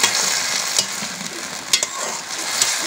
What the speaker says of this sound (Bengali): এই আমরা সয়াবিন দিয়ে দিলাম, দিয়ে নাড়াচাড়া করে দিচ্ছি।